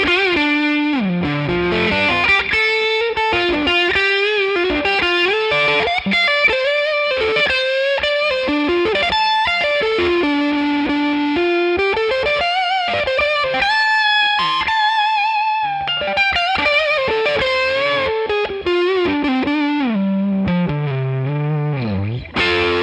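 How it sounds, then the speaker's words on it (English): A Fender American Performer Telecaster HS electric guitar played through its humbucker pickup with distortion and effects: a continuous, loud, sustained lead melody with bends and moving notes over thick, saturated chords, heard alone without talk. "Let's leave it as a normal humbucker for now and see how that sounds."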